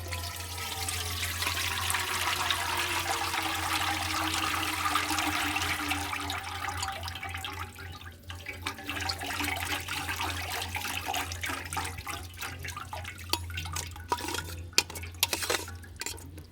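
Lemon juice pours steadily through a strainer in a trickling stream for several seconds, then gives way to scattered clinks and taps of utensils against a container.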